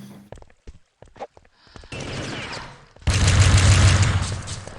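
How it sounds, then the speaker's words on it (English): Grenades and gunfire in an Urban Terror World Cup match, with sharp scattered shots and clicks followed by two loud sustained bursts of explosive, crackling noise close up. "Couple of quick nades from Kaz here"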